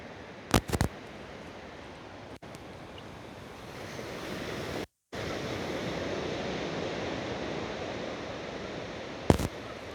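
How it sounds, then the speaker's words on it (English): Ocean waves wash onto a nearly empty beach at dawn, a broad steady hiss of surf with wind buffeting the microphone. A few short clicks and handling bumps break through the continuous wash. "really get lost for a while with these waves, with the sounds that the waves are creating"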